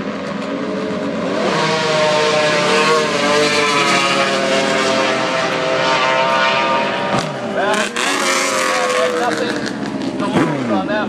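Drag racing at a strip, a Harley motorcycle against Plowman's snowmobile, engines roaring loud and sustained with rising revving sweeps and a pass-by shift near the end, an announcer's voice running over it.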